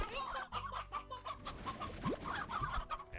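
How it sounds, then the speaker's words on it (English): Chickens in the video game Slime Rancher, a few quick, close clucks and bwaks repeating over a few seconds against a soft game background. "Oh well, we got chickens."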